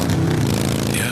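Motorcycle engine running loud and close, a steady rumbling drone with slight revving throughout.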